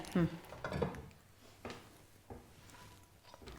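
A frying pan is handled in a home kitchen, giving a few short metallic clanks and knocks with quiet gaps between them, fairly close and moderately loud, with no talking.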